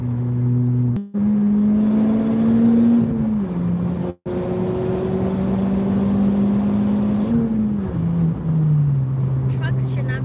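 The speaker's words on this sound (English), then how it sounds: "Gotta pass this truck." A Honda Civic Type R engine drones steadily from inside the car, pitch rising and falling with the accelerator as it speeds up to pass a truck, with road rumble underneath.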